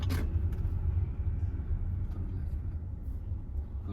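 A car's low engine rumble holds steady and close inside the cabin as the clutch is released during a driving lesson, under quiet instructor speech.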